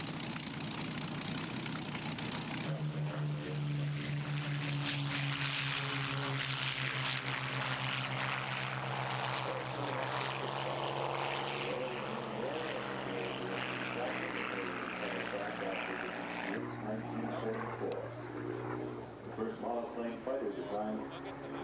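A Spitfire Mark IX propeller fighter plane's engine drones loudly and steadily at an airshow, its pitch shifting as it flies past, with a voice talking over it.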